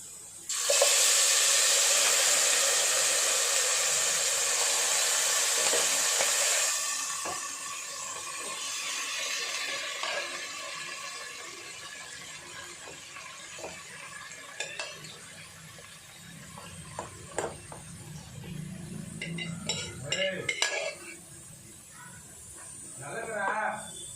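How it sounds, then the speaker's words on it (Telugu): Mutton curry tipped into hot ghee for Hyderabad bawarchi-style mutton biryani, giving a loud hissing sizzle for the first seven seconds that settles into quieter bubbling with scattered clinks and stirring, while someone talks over it. "నెయ్యి హీట్ ఎక్కింది ఇప్పుడు ఇందులోకి మనం ముందుగా చేసి పెట్టుకున్న మటన్ కర్రీ ఉంది కదా అది ఇందులో వేసుకుంటున్నాను"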